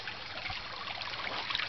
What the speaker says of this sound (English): And here we have my stream.